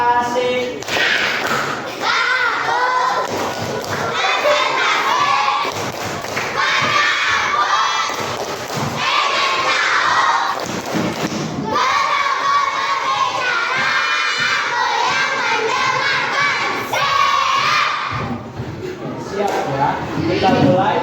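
A primary school class performs a group concentration clap routine, rhythmic bursts of hand claps mixed with loud children's chanting and shouting, repeated in several phrases.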